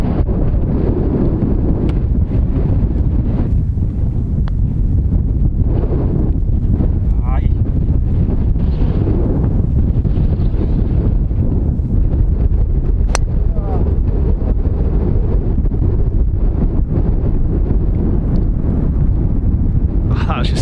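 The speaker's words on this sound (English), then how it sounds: "Just can't get it going anywhere in the wind." Strong wind buffeting the microphone on a golf course, a loud continuous low roar with gusty rumble throughout, steady and close without letup.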